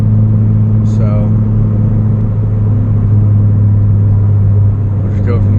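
A 2012 Honda Civic cruises on the road, heard from inside the cabin as a steady, loud low engine and road rumble, with brief faint higher sounds over the drone.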